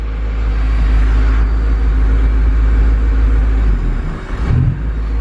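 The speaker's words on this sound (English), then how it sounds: "It would idle good like this for a second, and then it would cut out and die." Turbocharged K24-swapped Honda Civic EP3 with an idle fault, a loud close low engine rumble holding steady, then faltering and sagging near the end as it stumbles toward cutting out.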